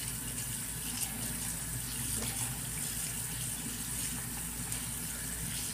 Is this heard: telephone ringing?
no